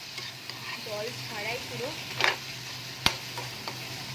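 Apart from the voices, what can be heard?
stir-frying spice masala with tomatoes in a wok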